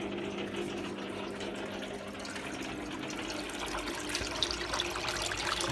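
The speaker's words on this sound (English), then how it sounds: "We should get some more water coming in soon." A Bush F721QW washing machine fills with water on a fast wash test, giving a continuous quiet trickling rush that swells slightly louder toward the end, with no talking.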